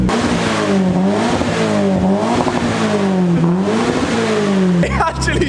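A Toyota GT86 with a naturally aspirated 2-litre engine and a new aftermarket exhaust revs repeatedly at its first start-up, loud rising and falling sweeps close by before a sudden drop at the end.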